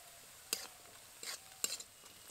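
Shelled green peas are stirred in a pan for a paneer curry, with three short scraping strokes over a faint, quiet sizzle, heard close with no voices.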